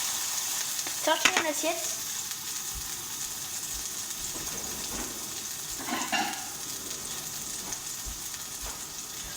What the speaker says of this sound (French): Regardez, je bouge la poêle